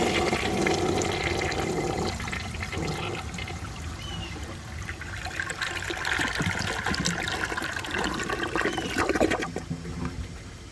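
A 1984 American Standard Cadet toilet flushing a washcloth: a loud rushing swirl of water up close, settling into trickling and refill for about ten seconds, with no talking.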